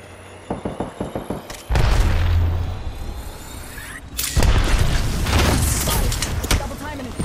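A grenade explodes in a video game, with deep booming blasts and rumbling aftermath after a short run of quick mechanical clicks. Game noise continues underneath.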